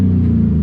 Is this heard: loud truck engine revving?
yes